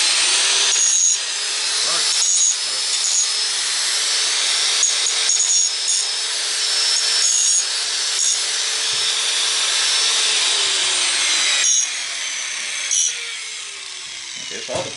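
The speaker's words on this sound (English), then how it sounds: "I want to get the grinder on this for a second." An angle grinder runs steadily on small steel shop parts such as plugs, a loud continuous high whine that dips and surges as the disc bites, with a person talking briefly over it.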